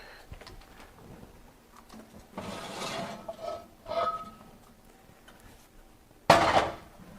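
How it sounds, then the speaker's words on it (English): Lid lifted off a hot pot of baking sourdough: soft clatter and handling, then a bright metallic clank of the lid near the end, fairly close in a quiet kitchen. "We're gonna de-lid."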